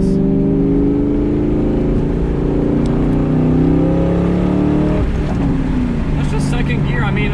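A 2024 Ford Mustang Dark Horse accelerates onto a highway, its loud engine note rising steadily with a continuous roar and a brief dip near the end as the revs shift, accompanied by steady road noise.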